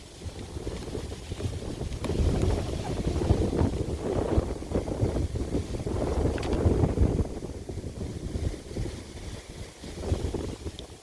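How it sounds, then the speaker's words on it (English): Wind buffets an outdoor microphone on a cloudy night with a steady, low, rumbling roar that swells and eases throughout and never stops. "just letting the wind past here"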